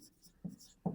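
A pen scratches across paper during a math lesson in short, close strokes, two brief firmer marks standing out, faint and quiet.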